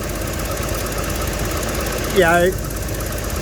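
A 1980s Ford EFI engine runs on a cold start, a steady idle drone throughout with a brief louder burst near the end, and a voice speaks briefly over it.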